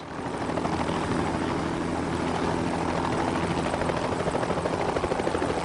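Helicopter flying near power lines, its rotor and engine roaring loud and steady throughout with a rapid, continuous blade chop.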